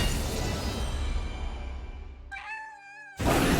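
A cat meows in the card game Elder Scrolls Legends, a short wavering cry rising out of a dense, noisy game soundscape before a loud burst of sound cuts back in.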